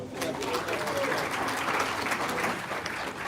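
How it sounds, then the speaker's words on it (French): Audience applause at a car handover ceremony in Cameroon, a dense, even roar of clapping filling the room without a break, with voices mixed into the crowd noise. "Applaudissez pour l'orange."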